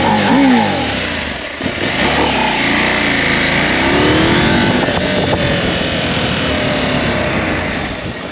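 A Husqvarna Norden 901 motorcycle engine roars and revs continuously, the pitch rising and falling as it accelerates, with no talking over it.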